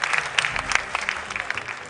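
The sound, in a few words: audience applause at a school quiz competition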